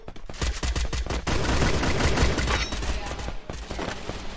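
Rapid bursts of video game gunfire crackle repeatedly across the clip, dense and loud, with overlapping shots and no pause.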